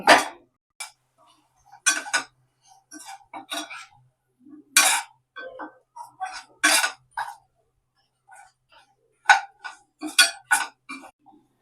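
Taro root pieces tossed with chili powder in a pan, metal spoon scraping and clinking against the pan in irregular bursts separated by quiet gaps.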